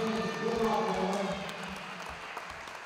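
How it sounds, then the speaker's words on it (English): A crowd at a wrestling meet gives a brief round of applause, a dense wash of clapping mixed with some murmuring voices that gradually fades. "And we please have another round of applause for Winton Senior 2018."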